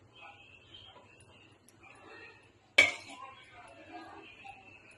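Chicken dum biryani being stirred in a pot, with soft scraping and one sharp metallic clank of the spoon against the pot midway, while someone talks quietly.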